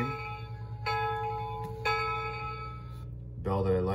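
A G scale model train's diesel bell sound effect rings in repeated clangs with sustained ringing tones, a low mechanical hum underneath, close and fairly clear.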